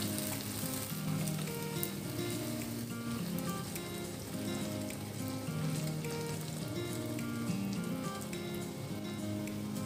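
Malpuri batter fries in hot oil over a medium flame, a steady, even sizzle with dense crackling that carries on without pause, close and alone with no talking.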